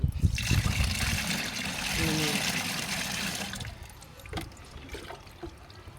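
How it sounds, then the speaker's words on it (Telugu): Water is poured into a homemade solution for protecting brinjal plants, giving a close trickling, splashing pour for several seconds that then thins into faint drips and small clatters. "కొన్ని నీళ్లు పోసుకొని దీంట్లోనే ఇప్పుడు నేను ఈ దబ్బాడు పోసాను కదా"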